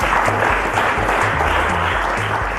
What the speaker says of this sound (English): round of applause for our contestants